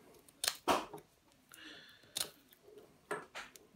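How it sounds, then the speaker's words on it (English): Scissors snipping around the braid of RG213 coaxial cable while fitting a PL259 UHF connector, a handful of separate close, crisp cuts spaced irregularly over a quiet background. "now I'm going to go around the edge carefully with the scissors and just trim this off"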